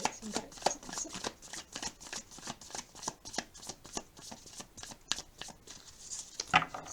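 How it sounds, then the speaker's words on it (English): Cards are shuffled repeatedly in a steady riffling rhythm, soft papery flicks and snaps close by, with no talking. "Just gonna keep shuffling."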